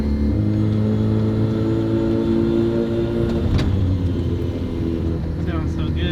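A Mazda FC with a rotary engine, running again after sitting for 15 years, revs loudly up close in a steady drone with a rise partway through, while people talk over it.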